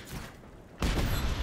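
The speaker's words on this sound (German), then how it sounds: "Dezent am Explodieren." A video game explosion with high effect detail erupts suddenly partway through, a loud broad blast and rumble following a quieter stretch of game ambience.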